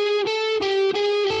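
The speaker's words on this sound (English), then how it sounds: "while I have my ring finger supported by my second finger bending the note up." Distorted electric guitar note repeatedly bent upward in a blues turnaround, sustained and up close, with several picked attacks and short gaps between them.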